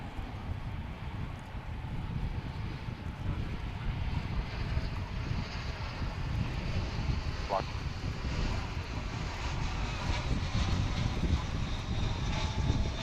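A United Airlines airliner in newer livery takes off at Dallas/Fort Worth Airport, its engine roar broad and steady, building gradually amid wind noise on the microphone.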